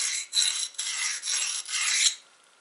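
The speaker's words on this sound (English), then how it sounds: "I'm going to grind off these edges." Knapped flint stone edges being ground, heard as a close, loud rasping scrape in four or five sustained strokes with brief pauses between them, ending in near quiet.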